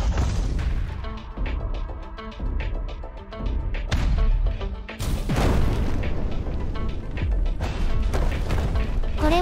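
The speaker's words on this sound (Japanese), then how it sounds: "2カ所の爆弾ダルに砲撃。" Cannon fire strikes bomb barrels in Instruments of Destruction, producing loud booming blasts and crashing debris over a steady mechanical rumble, with a heavy explosion near the middle followed by continued clattering destruction.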